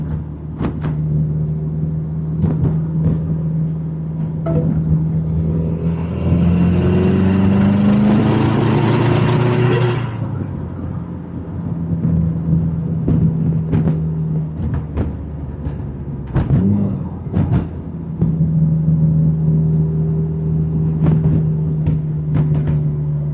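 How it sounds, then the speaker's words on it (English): A Subaru WRX running E85 fuel and a full bolt-on setup rumbles steadily while driven in cold weather, with its engine note cutting up. The engine swells into a louder rev partway through, then settles back to a low drone. "the car's cutting up a little bit because of the cold temperatures."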